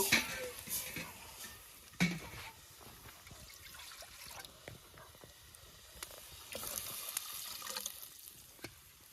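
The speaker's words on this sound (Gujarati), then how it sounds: "થોડું પાણી મારી દેવું." Water splashes and trickles into a pot of simmering Gujarati kadhi outdoors on a farm in winter, a busy wet pouring noise with a few louder knocks and splashes.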